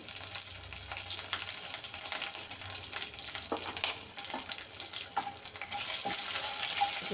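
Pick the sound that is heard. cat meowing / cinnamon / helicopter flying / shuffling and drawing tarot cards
cinnamon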